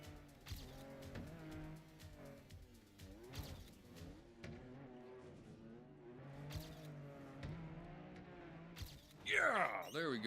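A rally car driven in first person in Trackmania, its engine whining up and down through shifting revs before a sharp burst of tire squeal near the end.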